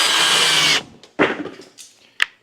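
Power drill boring holes through a leather chopper seat, a loud steady whine for under a second, then a few sharp knocks and scrapes of the tool and seat, with a final crisp click.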